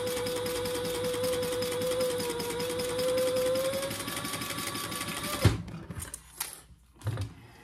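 A sewing machine stitches a seam on a handbag with a fast, steady whirring hum and rapid needle clatter for several seconds, then stops abruptly, followed by a few soft handling clicks.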